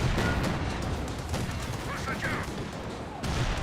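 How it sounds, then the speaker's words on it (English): A landmine detonates during a Company of Heroes 2 match, a dense rumbling blast folded into steady battlefield gunfire and artillery that fills the whole stretch. "Oh, detonates that landmine there."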